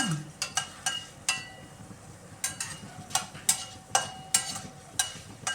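Ridge gourd chutney ingredients fry in a pan, with repeated light metallic clinks and scrapes of stirring over a faint, steady sizzle.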